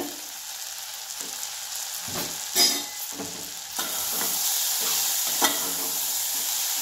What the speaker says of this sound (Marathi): मटकी अशी चांगली तेलात भाजून घ्यायची बघा